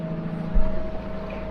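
Boat motor droning steadily while helming on calm water near Canada, a low continuous hum with a faint tonal whine and a brief louder rumble partway through, no talking.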